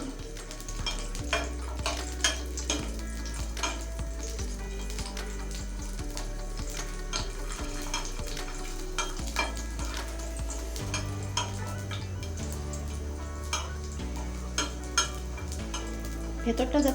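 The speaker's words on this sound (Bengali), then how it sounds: "ভেতরটা যাতে সেদ্ধ হয়ে যায় সেভাবে ভাজতে হবে।" Olives frying in a pan for a crushed olive chutney, with a steady sizzle and occasional stirring and scraping clinks continuing throughout.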